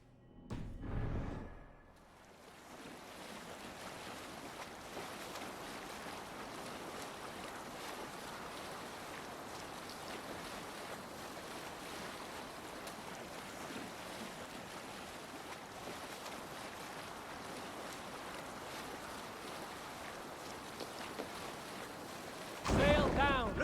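A longship under sail at sea in Assassin's Creed Valhalla, with a steady wash of waves and wind rushing along evenly for the whole stretch, a brief louder swell at the start and another near the end.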